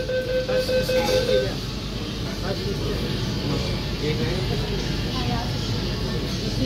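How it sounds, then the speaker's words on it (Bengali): An East-West Metro train pulls out of Howrah station, bound for Mahakaran, heard from inside the carriage as a steady rumble with a rising whine. Faint voices murmur in the background. "ট্রেন চলতে শুরু করলো"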